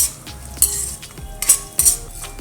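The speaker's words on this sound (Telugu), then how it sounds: "వీటన్నిటిని లో ఫ్లేమ్లో మంచి సువాసన వచ్చే వరకు వేయించుకుందాం" Peanuts and roti pieces are stir-fried in a pan on a low flame. Close metal spoon scrapes and clinks come in quick irregular strokes over a light sizzle.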